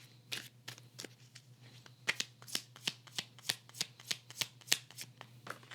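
Tarot cards are shuffled close up in quick repeated riffling snaps, a steady run of crisp papery flicks over a low constant hum, with no voices.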